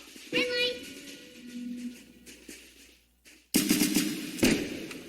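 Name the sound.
gunfire in Roblox Squid Game video game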